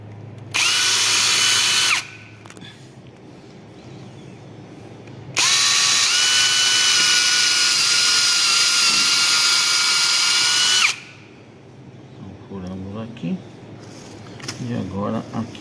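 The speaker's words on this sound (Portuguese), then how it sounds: "Fazer um furo atravessado?" Power drill boring a cross hole, two loud sustained whining runs, the second much longer, up close, with people talking quietly afterward.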